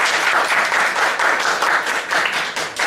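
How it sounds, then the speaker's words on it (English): Workshop audience applauds in a brisk, fairly close burst of many hands clapping, dense and rhythmic with slight swells, lasting a few seconds without speech. "So let's give him a round of applause."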